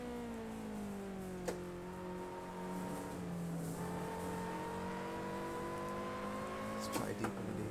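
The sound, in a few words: race car engine downshift in video game Assetto Corsa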